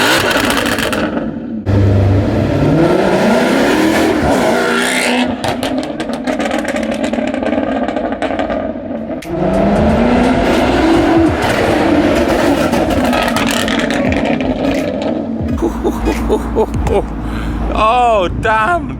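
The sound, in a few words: Maserati GranTurismo MC Stradale loud exhaust revving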